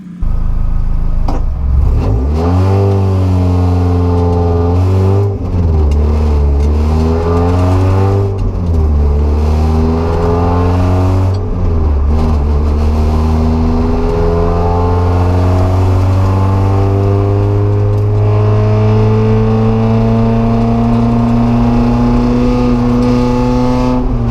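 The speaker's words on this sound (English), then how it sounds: "So I'm gonna take her for a quick rip and shake her down real quick." Mazda Miata endurance race car on a shakedown test drive, engine loud and close throughout, revving up through repeated gear changes with rising pitch sweeps, sustained high-rpm acceleration.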